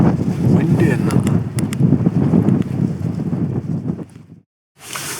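Wind gusting across an exposed Welsh mountainside, a loud, rough buffeting roar on the microphone that drops out briefly to near silence before returning.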